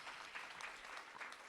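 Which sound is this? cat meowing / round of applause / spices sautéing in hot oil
round of applause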